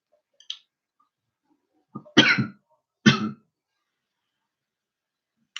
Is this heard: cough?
yes